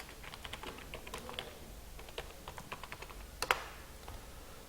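Light, quiet keystrokes tapping out a username on a computer keyboard, an uneven run of soft clicks with a slightly sharper cluster near the end.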